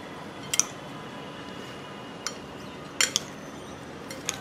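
Cooked chicken salad seasoned with pepper and beet salt is tossed in a bowl. Faint scraping alternates with a few sharp clinks of a utensil against a dish, scattered across several seconds in a quiet room.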